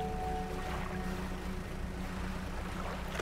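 Boat gliding across water in the fishing game Dredge, a steady low engine drone with continuous lapping water, even and unbroken throughout, no voices.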